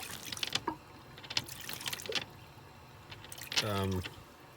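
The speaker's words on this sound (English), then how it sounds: "I can pour that down the sink a little" Water is poured down a small sink aboard a boat on a river, with uneven splashing and trickling bursts and a short stretch of voice near the end.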